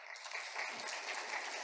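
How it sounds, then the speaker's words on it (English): An audience at a public conversation event applauds with steady, dense clapping that sounds somewhat distant and fairly faint throughout. "I think you got your answer from this wonderful audience because of their claps"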